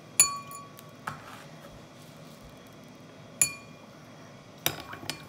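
Eggs are stirred in a glass bowl, producing a few sharp, bright clinks spaced irregularly over a quiet background, close and faint.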